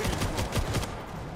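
Rapid machine gun fire from the World War Z video game, a dense burst of repeated shots that runs loud and steady before thinning out near the end.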